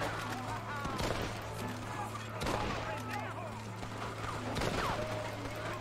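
Gunfire crackles in a Red Dead Redemption shootout in Mexico, with several sharp shots spaced a second or two apart over a steady background hum and scattered game voices.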